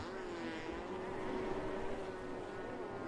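A steady droning jet ski engine hum with an aftermarket water box holds a constant pitch throughout, slightly rough and resonant, at a moderate distance with no voices.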